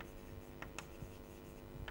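Pen or chalk writing out logic formulas by hand, a few short scratchy strokes spaced apart at close range, quiet, with no talking.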